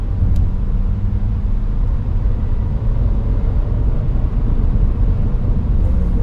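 1996 Subaru Impreza WRX heard from inside while driving on the road, with a loud steady engine and road rumble holding constant through the overtake, no talking.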